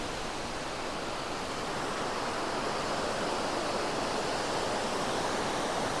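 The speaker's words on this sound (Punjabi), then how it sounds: "ਉਹ ਸਾਹਮਣੇ ਥੱਲੇ ਜਾ ਰਿਹਾ ਵੀ ਬਿਆਸ ਦਰਿਆ" Fast-flowing Beas river rushing along below a riverside hotel, a steady, dense roar of churning water heard from above, constant and unbroken with no voices.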